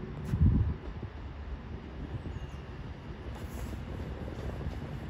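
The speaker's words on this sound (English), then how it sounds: "Incoming now will be the 1555 Advance West Coast service from Holyhead to London Euston" Avanti West Coast Holyhead to London Euston service arriving at Crewe on the West Coast Main Line, a soft distant rumble of the approaching train with a brief low thump early on and faint wind noise.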